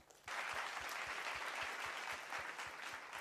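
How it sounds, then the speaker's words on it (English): Audience applause at a corporate launch event in a Nakuru hotel, starting abruptly after a brief quiet moment and continuing as a dense, steady, moderately loud wash of clapping for about three seconds. "A round of applause to yourselves."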